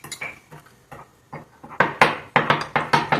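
A chocolate bar mixture being mixed in a bowl, with sharp clinks and taps of a utensil against the bowl, sparse at first and then a quick regular series of louder strikes.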